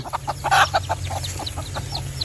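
A Malaysian jungle hen with her newly hatched brood, giving a quick series of close, rhythmic clucks while thin high peeps from the chicks repeat over a low steady hum.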